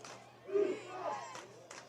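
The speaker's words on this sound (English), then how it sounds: "Warriors fans getting into it with the defense cheer." Football fans at a high school game chant a defense cheer, a distant crowd rising in a rhythmic swell of voices with a couple of sharp claps near the end.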